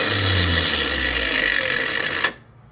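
A Hercules angle grinder spins down from full speed, its loud whining motor tone sliding lower for a couple of seconds before cutting off abruptly into near silence.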